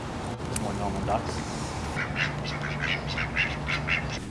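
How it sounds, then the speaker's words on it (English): Several ducks quack in short repeated bursts through the second half, fairly close, over steady low outdoor rumble and some background talk. "More normal ducks."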